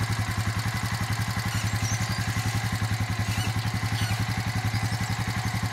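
A Warn 2500 lb electric winch lowering a wind turbine tower gives a steady, close, rhythmic motor drone with fast regular pulsing and a mechanical clatter running throughout, with no talk.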